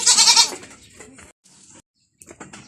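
Goats on a farm bleat loudly and close by at the start, then softer bleats and rustling movement follow with short gaps, with no talking.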